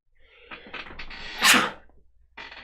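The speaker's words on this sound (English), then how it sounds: "I'm going to sneeze again." A single close, loud sneeze from a man, preceded by short breathy intakes and followed by a brief sound after a pause.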